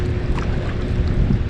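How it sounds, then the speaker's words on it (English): Wind rumbles steadily against the microphone while kayaking on a river, a loud low buffeting with faint water sounds and no talk. "the wind is still kind of pushing me pretty good"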